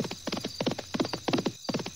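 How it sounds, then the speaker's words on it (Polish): A cartoon horse's hooves clip-clop in a quick, steady trotting rhythm, close and crisp, with no voices. "Koń Rafał!"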